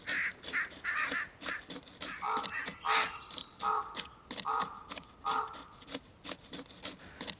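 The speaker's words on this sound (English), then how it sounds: "Is it me or I'm hearing more birds than usual?" Birds caw repeatedly in a video game, a steady run of short, harsh calls overlapping one another, fairly loud and close with no talking.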